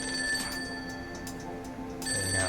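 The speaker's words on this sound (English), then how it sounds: "And now the phone's ringing." A phone rings in the intro of a Travis Touchdown video game, a steady electronic trill with a sustained tone, fairly clear and alone with no talking, a brief break midway before it resumes.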